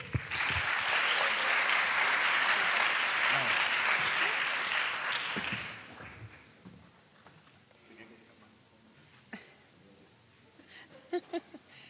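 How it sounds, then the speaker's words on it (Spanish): An audience in a university auditorium applauds a conference speaker, loud sustained clapping for about five seconds that fades out, leaving a quiet room with faint shuffling and a few small knocks. "Un aplauso, por favor"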